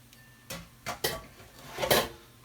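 A soft spatula stirs chili in a cooking pot, making several separate scraping, clunking strokes spread over a couple of seconds with quiet gaps between them. The sound is close by and moderately loud, with no talking.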